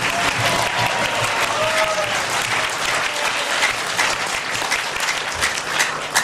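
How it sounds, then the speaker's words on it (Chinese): Sustained applause from a seminar audience in a hall honoring a speaker, dense steady clapping throughout at even loudness, with a faint murmur of crowd voices underneath. "再次给黄老师掌声鼓励一下。"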